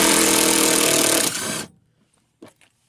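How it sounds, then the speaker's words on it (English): A small impact wrench working bolts loose on a 1997 Civic hatch, buzzing and hammering loudly for about a second and a half before stopping, followed by a couple of faint clicks. "Should be able to use this little impact."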